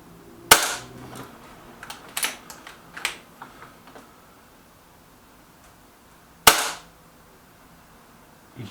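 Air rifle shots at a shooting match, two sharp cracks about six seconds apart with a few smaller clicks and knocks between them, heard close against a quiet background.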